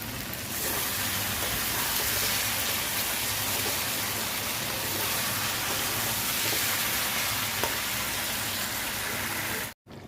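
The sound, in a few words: chicken curry masala frying with sweet yogurt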